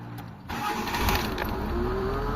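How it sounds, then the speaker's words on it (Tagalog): A Mitsubishi Lancer GLXi engine cranks briefly and catches, then settles into a steady close idle. "Ito, umandar na mga bossing yung makina natin."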